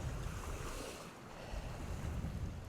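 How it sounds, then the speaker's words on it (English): Ocean waves wash up a beach as the tide comes in fairly aggressively, a steady rushing surf with wind buffeting the microphone, no voices. "The tide's moving in fairly aggressively now."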